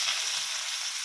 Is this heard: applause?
no